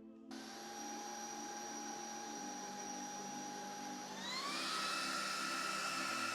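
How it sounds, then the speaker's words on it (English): A FEPPO 30KPa cordless vacuum cleaner whirs on with a high, steady motor whine, then its pitch climbs as it switches up to its max power level and runs louder, close by. "roughly about 90 at the max level, which is not bad for a vacuum"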